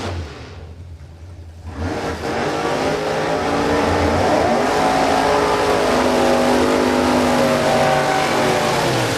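Drag racing car launching down the strip at Warwick Dragway, a short low idle followed by an abrupt, very loud engine roar that holds at full volume with a harsh, rising pitch.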